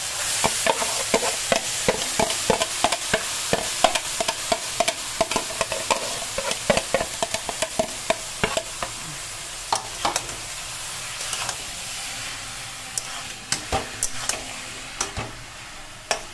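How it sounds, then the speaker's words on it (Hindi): Grated carrot fries in hot ghee with a steady sizzle, while a spoon stirs it in frequent quick scrapes and taps that grow sparser toward the end, heard close with no talking. "अब इसमें मैं कद्दूकस किया हुआ गाजर डाल दूंगी।"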